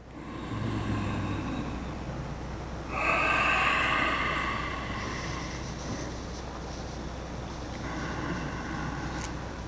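Slow breaths drawn in and out during a yoga pose, heard as soft airy rushes close by, one stronger exhale in the middle, over a steady low background hum.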